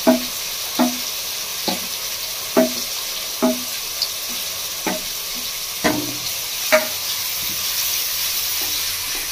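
Egg cooking in a pan for fried rice, with a soft sizzle underneath and sharp spatula strokes scraping the pan in an even rhythm, about one every second, close and clear with no voices.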